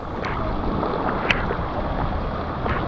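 A kayak paddles along Silver Springs in a steady wash of water and wind noise, with soft paddle splashes and one brief sharper knock.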